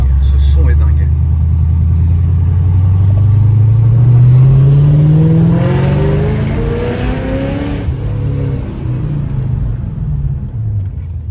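A Ford Mustang with a Stage 2 tune revs loudly and close by, its deep engine note climbing steadily for several seconds and then easing off into a rumbling idle, with a voice heard over it.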